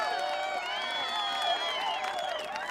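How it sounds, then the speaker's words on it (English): Stock crowd sound effect of a cheering audience topped by a young, high-pitched scream, with shrill whoops and shrieks sliding up and down over clapping and a continuous crowd roar. "Pay close attention to the kind of young, high-pitched scream amongst the crowd."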